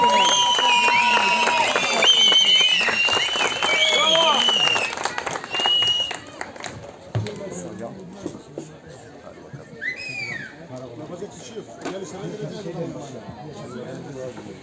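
Crowd applause and clapping at the first traditional AŞODER Alçakbel plateau festival in Erbaa, greeting a singer. The clapping is loud and dense for several seconds, then thins to scattered claps and chatter while someone talks over a microphone.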